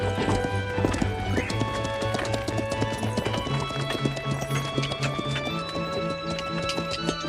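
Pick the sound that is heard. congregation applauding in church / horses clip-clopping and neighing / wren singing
horses clip-clopping and neighing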